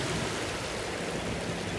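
Steady broadband rush of Joe Creek flowing in south Tulsa, constant and fairly close, with no voices.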